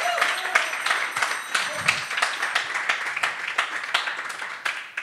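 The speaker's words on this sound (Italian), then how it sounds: "grazie Ink, un applauso." An audience at a cultural venue applauds a music talk, a moderate crowd of hands clapping in an irregular patter, with some louder individual claps standing out near the listener.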